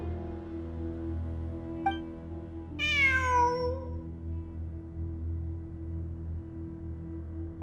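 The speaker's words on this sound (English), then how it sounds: "I'm not hearing things. It really is a cat." A cat in a video game lets out a single clear, drawn-out meow over a steady humming game soundtrack, with a faint click just before it.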